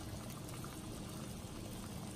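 Hot water poured over Rocksett anchoring cement to soften it for removal, a steady, dense liquid rush with a bubbling, fizzing quality, close and continuous with no talk.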